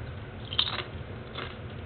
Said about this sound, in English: These chips are really good. Spicy sweet chili Doritos.